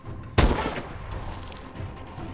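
A single sniper rifle shot in Call of Duty: Advanced Warfare multiplayer, a sharp loud crack with a booming tail, followed by quieter game ambience and a faint whizzing sweep.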